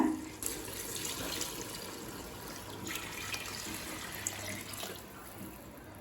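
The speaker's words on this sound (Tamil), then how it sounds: "இப்போ அடுத்தது நம்ம தண்ணி சேர்த்துக்கலாங்க." Water being poured into a pot of chicken biryani, a steady soft splashing stream continuing for several seconds with a few louder gurgles, fairly quiet and without talk.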